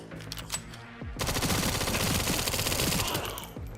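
Rapid gunfire from a weak gun in Resident Evil 4, a dense burst of shots that starts after a second of quieter game sounds and runs loud and continuous almost to the end.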